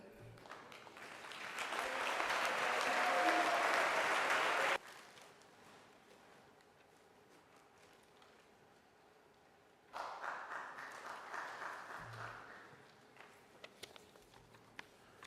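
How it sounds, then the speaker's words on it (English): Audience applause at a University of Nairobi student recognition ceremony: a loud, dense burst of clapping for about five seconds, then a quieter hall, then a second, smaller round of clapping. "Maybe stand and then we can clap for you."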